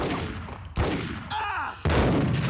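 Gunshots in Max Payne on PlayStation 2: two or three loud, abrupt broadband blasts, each cutting in sharply and ringing on, with a quieter stretch of game ambience between them.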